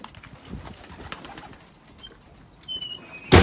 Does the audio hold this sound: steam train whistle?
no